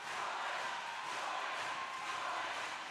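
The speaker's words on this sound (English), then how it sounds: "Here we go for the cheer-offs in the crowd." Massed spectators cheering and shouting during a roller derby cheer-off at a Barcelona world cup game, a constant loud roar filling an enclosed, glass-lined arena without a break.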